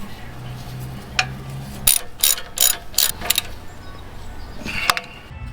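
A ratchet tightening the 12 mm bolt on the brake line hose bracket of an Acura MDX during a brake job. A quick series of about five sharp clicks sounds close up, with light metallic handling before and after.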